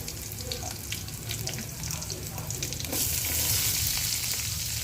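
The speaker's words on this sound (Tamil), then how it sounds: "இப்போ அந்த எண்ணெயிலே கொஞ்சம் போல் வெந்தயம் சேர்த்துருக்கேன்." Fenugreek seeds and about ten crushed, skin-on garlic cloves fry in hot oil for a ladies finger kara kulambu, a steady close sizzle with stirring clinks that grows louder and brighter near the end.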